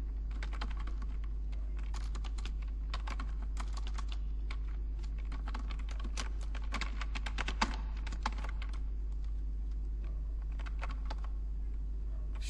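Fingers type an email address on a computer keyboard, a long run of quick, irregular key clicks up close over a constant low hum.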